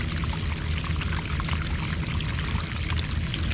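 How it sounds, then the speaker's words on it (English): Water pours steadily out of a French drain outlet in the ground, a continuous loud rushing splash close by with no break across the clip. "look how much water comes out of that ground from that French drain."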